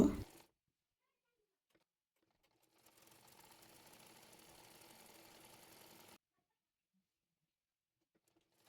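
A sewing machine stitches a side seam of a kameez in one short, even run of rapid mechanical whirring lasting about three seconds. Near silence surrounds it.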